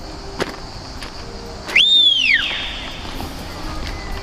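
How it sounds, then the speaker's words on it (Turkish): A single loud whistle that swoops up and then slides back down, lasting about half a second over quiet background noise, in a canyon. "Bir ıslık çalsana."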